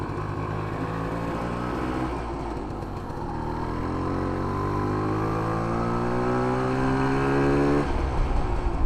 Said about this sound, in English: These bikes don't really like high RPM. They kind of like to be low. They make their power down low.